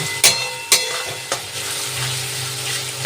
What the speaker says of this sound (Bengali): পেঁয়াজটা আমাদের ভাজা হচ্ছে